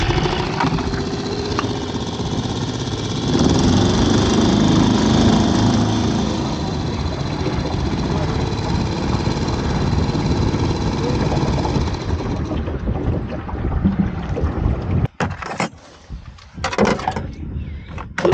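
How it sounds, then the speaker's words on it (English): Outboard boat engine on a small crab-fishing boat starting and running, a steady loud motor drone that drops away near the end, followed by clattering and knocks. "Start an engine."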